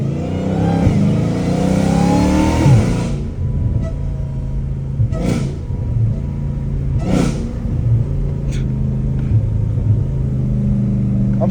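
A Dodge Challenger Hellcat Redeye with straight-piped exhaust revs and idles with a deep rumble, with a few sharp, brief rattling bursts from loose exhaust clamps cutting in over the steady exhaust drone.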